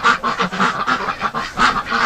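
Geese and ducks wintering indoors during extreme cold lockdown, honking and quacking in a steady, overlapping chorus of repeated calls close by, with no talk.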